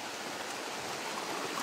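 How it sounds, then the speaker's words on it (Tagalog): Heavy rain pours down on a mountainside, a dense, steady hiss of water falling on surfaces that is constant and moderately loud with no voices. "Delikado, ang lakas ng ulan."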